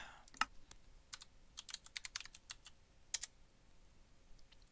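Keystrokes on a computer keyboard while a command is entered into a game, a quiet run of separate clicks in loose bursts with short pauses, close by and alone.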